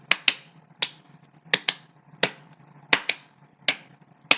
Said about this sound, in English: Now double claps.